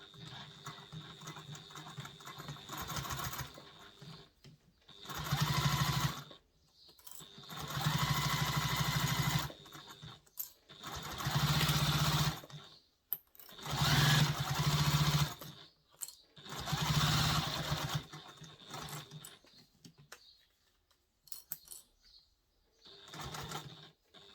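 A sewing machine stitches a baby diaper bag in a series of loud, close bursts of rapid mechanical whirring. Several runs of several seconds each are separated by short pauses.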